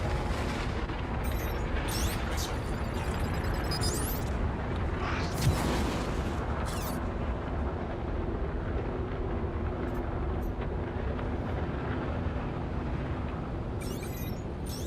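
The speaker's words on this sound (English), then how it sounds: "Another missile." Missile fire during Star Citizen space combat, a dense, continuous roaring rumble with whooshing launches and sharp bursts layered over engine noise, loud and close.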